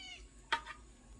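A house cat lets out a single short meow indoors, fairly close but not loud, with quiet room tone before and after.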